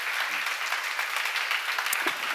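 A church congregation breaks into dense, continuous applause, many hands clapping together in a sustained burst throughout.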